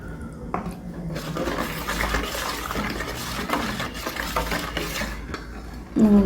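Caustic soda lye solution being poured and stirred in a container while making homemade laundry detergent soap, giving a continuous liquid swishing with light clinks and scraping, and a louder knock at the very end.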